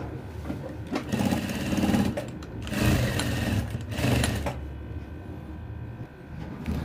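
A sewing machine stitches elastic onto fabric in several close, loud bursts of rapid whirring and clattering, each run a second or two long with brief pauses between.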